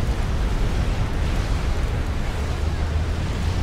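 A tactical missile explosion in Supreme Commander Forged Alliance produces a dense, continuous rumbling roar of blast noise, loud and heavy in the low end throughout.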